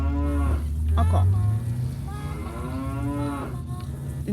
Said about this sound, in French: Une vache.